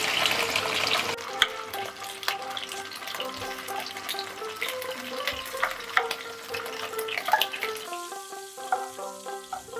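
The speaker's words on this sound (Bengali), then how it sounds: "পটলের কাটা অংশগুলো ভেজে নিচ্ছি।" Steady sizzle of cut pointed gourd pieces frying, with scattered clinks of a utensil against a pan and a few tonal kitchen sounds; no talking.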